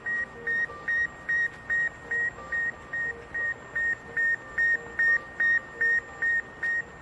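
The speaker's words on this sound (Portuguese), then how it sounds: "Ao captar com seu rádio o bip do Sputnik, o primeiro satélite a ser lançado na história pela União Soviética" Radio signal from Sputnik, the first satellite, launched by the Soviet Union in 1957: a steady train of short, identical electronic beeps, about two per second, over a hissy, noisy background.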